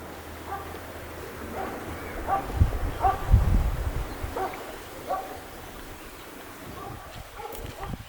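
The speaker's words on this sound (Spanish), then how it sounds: "Los perros son sin duda parte de la esencia del lugar." Dogs bark intermittently at a distance in Tortel, a Patagonian village of boardwalks, in short scattered bursts over an outdoor background.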